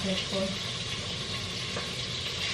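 Salmon frying in cooking oil in a pan with garlic, onion and ginger gives a steady, close sizzling hiss throughout, with a faint voice low underneath.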